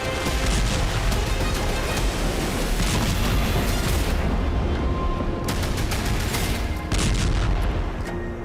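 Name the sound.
explosions from Russian strikes in Ukraine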